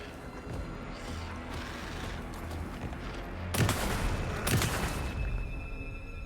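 Gunfire in the video game Alan Wake 2, loud bursts of shots and booming impacts, with a denser run of blasts near the end over continuous game background noise.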